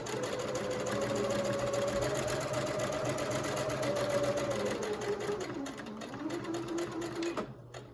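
A sewing machine runs continuously as it hems a small fabric face mask for an 18-inch doll, a steady close-up motor whir that dips slightly in pitch before stopping abruptly near the end.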